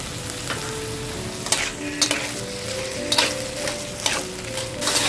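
Peas and spinach being sautéed and stirred in a pan on low heat for a hara bhara kabab mixture, with a steady close sizzle and repeated sharp scrapes and clinks of the spatula against the pan.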